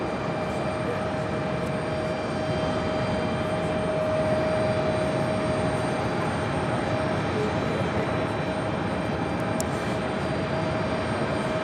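A JetBlue airliner in Peacock livery passes at JFK airport, its engine roar steady and loud throughout with a faint high whine on top, no voices.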